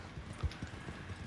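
A horse's hooves clop through mud in the Red Dead Redemption 2 video game, a few soft, close, dull thuds in an uneven walking rhythm at low volume, with no voices.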